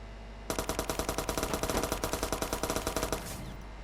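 Rapid automatic weapon fire from a vehicle in Watch Dogs, a steady burst of about thirty evenly spaced shots lasting under three seconds, loud and close, then cutting off.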